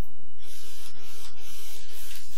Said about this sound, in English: And print a test page.